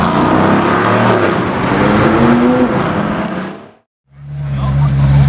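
A brand new McLaren Senna hypercar engine roars loudly and close, with a tonal drone that cuts out abruptly into near silence and then returns as a deeper, steady hum.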